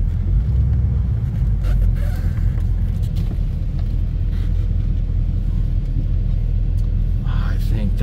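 A 1985 Mercury Capri ASC McLaren idles and creeps while being parked, its steady low engine rumble continuous and fairly loud throughout, with someone talking over it.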